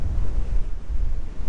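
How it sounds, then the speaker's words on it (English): Strong wind buffets the microphone on a remote beach in south-eastern Western Australia, a heavy low rumble with surf washing underneath, continuous and loud with no voices. "So we're down here at the beach. It's windy,"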